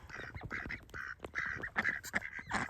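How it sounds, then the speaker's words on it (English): Several ducks quacking close by outdoors at feeding time in cold weather, a busy run of repeated nasal quacks in overlapping bursts with no talk. "I am down here with our ducks."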